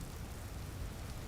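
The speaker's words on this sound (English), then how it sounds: "It's the wind and the rain in the game." Wind and rain in the video game Vintage Story, a steady, dense wash of rain and blowing wind with a low rumble underneath, continuous and loud without any talk.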